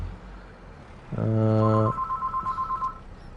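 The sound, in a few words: telephone ringing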